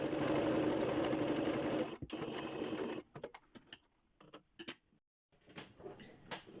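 A sewing machine runs a straight-stitch seam in steady bursts, the motor whirring loudly, then stopping briefly, then resuming in shorter runs with small clicks between, close and clear with no talking.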